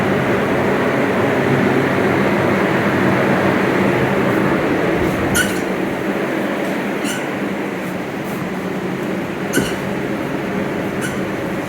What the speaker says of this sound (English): I've just repositioned the fans a little bit and our dehumidifier, and it's going really nicely in here.